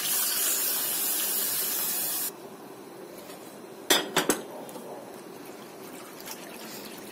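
Milk pours into a pan for a light béchamel, a brief bright spray and trickle before cutting off, followed by a few sharp metallic clinks of a utensil against the pan in a quiet kitchen.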